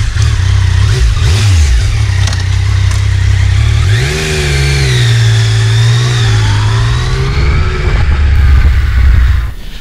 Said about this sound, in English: we will start the Yamaha GT Tracer 900